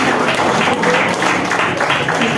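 A crowd applauds a champion football team at a league assembly, a dense, steady wash of clapping that fills the short moment at full loudness without pause.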